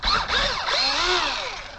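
A drill bores a 4.5mm hole through a 3D-printed plastic tripod part, a steady close whine with a pitch that sweeps up and down as the bit bites, running continuously with no talk.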